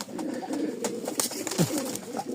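Domestic pigeons kept indoors at home coo close by in soft, rolling bursts, with one deeper falling coo standing out and light rustling and background noise underneath.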